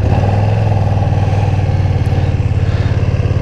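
A Ducati Streetfighter V2 engine with stock exhaust idles and revs steadily up close, a loud, throbbing exhaust note with a fast regular pulse throughout.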